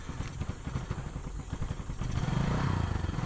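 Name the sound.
motorcycle engine being revved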